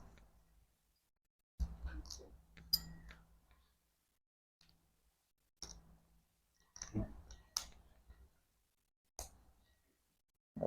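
Ultimate Valkyrie Beyblade parts clicking together as the top is assembled: sharp, close plastic clicks and taps in short bursts, separated by stretches of near silence.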